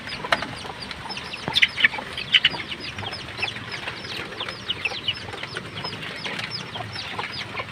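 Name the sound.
chicks peeping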